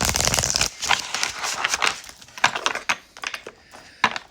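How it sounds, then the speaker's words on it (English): Tarot cards are shuffled by hand in a burst of crisp, rapid riffling, then sharp scattered flicks and taps follow, close and moderately loud, with no speech. "So let's do one shuffle."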